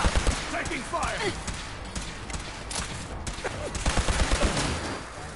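Fallout 4 gunfire crackles in rapid, overlapping bursts of shots throughout, mixed with in-game voices speaking over the shooting.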